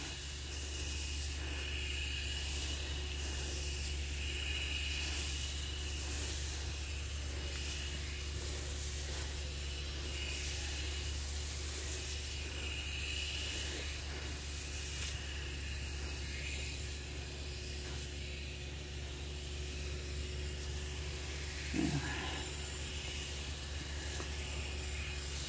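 Continuous steady hiss of a pressurized garden sprayer misting kidney bean plants on a double-row trellis, loud and unbroken throughout with a constant low hum underneath and no talking.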